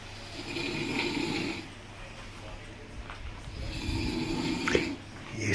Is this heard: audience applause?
no